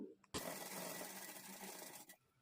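A sewing machine stitches a quarter-inch seam joining a puff sleeve piece, running steadily for about two seconds after a sharp start, then stopping.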